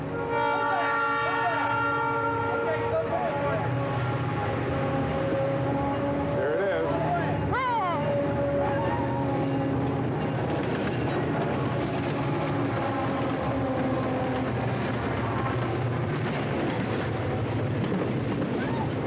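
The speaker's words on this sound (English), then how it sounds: "there is only, believe it or not, one freight train coming our way this morning" A long freight train rumbles past close by with a steady roar, a horn sounding at the start, while a person speaks briefly.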